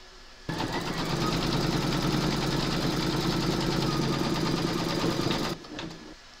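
A computerized embroidery machine stitching a quilting round on a remembrance quilt panel, running steadily and loudly at close range for about five seconds before stopping abruptly.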